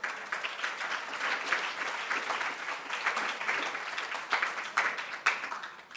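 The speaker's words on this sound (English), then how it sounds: "You're all doing an incredible job with your applause, because it's quite a lot, isn't it?" An audience applauds at the Women of the Future Awards Southeast Asia 2023 ceremony, a dense, steady wash of many hands clapping for several seconds with no voice over it.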